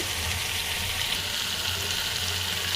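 Chili paste and salt frying in a pan for a Tengra fish curry, a steady close hiss of sizzling oil with no voices.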